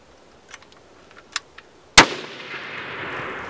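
A single sharp gunshot fired toward trees, loud and close, with a long rolling echo fading afterward; a few faint clicks and handling noises come before the shot.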